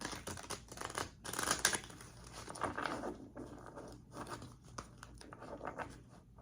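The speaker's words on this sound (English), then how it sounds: "I like to shuffle, shuffle, shuffle." Tarot cards shuffled by hand in a quiet room, a quick run of soft papery riffles and flicks with brief pauses, close and fairly faint.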